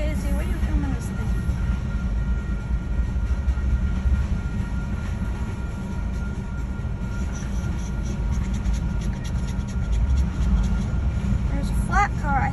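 A freight train rumbles steadily past at close range, a continuous heavy rolling roar with metallic squeals near the end.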